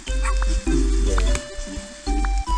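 A dog barks in the mobile video game Sparklite, giving several loud, close yips and barks in quick bursts over a steady musical game backdrop, with no talking.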